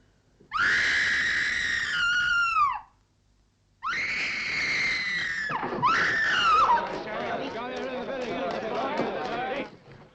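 A person screams in fright at a mouse, with high, shrill wails in two long bursts and a short pause between, then a ragged, sobbing outcry.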